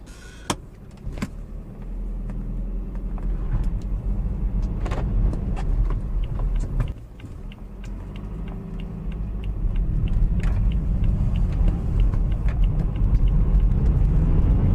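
A 2012 BMW 320d diesel engine idles steadily just after starting, a low, continuous rumble, close by, with a few faint clicks and interior knocks over it.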